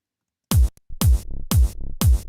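A kick drum after the SpectraLayers casting process: four loud, crisp kick hits in a steady rhythm, each followed by a brief humming low tone that fills the gaps, with no voices.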